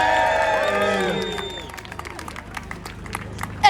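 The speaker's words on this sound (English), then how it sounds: "let's have a big round of applause for Hadika." Crowd at an outdoor rally applauds and cheers loudly for someone speaker, the clapping and whoops swelling at first, then thinning out into scattered claps over the next few seconds.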